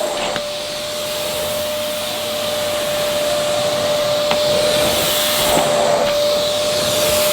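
Simplicity SV1 vacuum cleaner running on carpet with its suction valve closed, giving a loud, steady motor whine and rushing airflow that holds throughout, with a few faint knocks from the head moving, and no voices.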